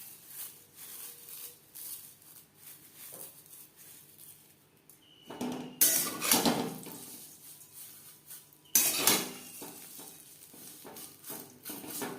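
Lachha semai vermicelli fries lightly in ghee with faint, scattered stirring clicks, then two louder bursts of scraping and sizzling as the strands are turned in the pan.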